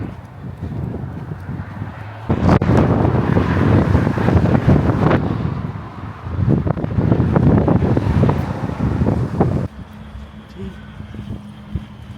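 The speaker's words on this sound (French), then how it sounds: "énormément de vent, ça souffle bien" Strong wind roars and buffets the microphone in heavy gusts, with a low rumble of surf or water underneath.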